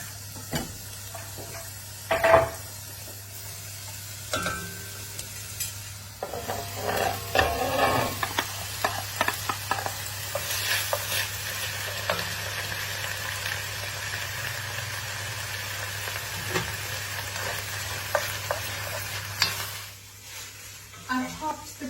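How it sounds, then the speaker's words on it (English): Sofrito vegetables sweat in olive oil in a pot with a quiet, steady sizzle under a low hum, broken now and then by clanks and scrapes of stirring. "I'm going to sweat these down in the same pot with a bit of olive oil"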